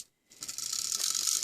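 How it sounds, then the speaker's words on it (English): A vintage wind-up toy sewing machine running, giving a fast, steady mechanical ratcheting whir up close after a brief pause, with no voices. "It's a little sewing machine that you wind up."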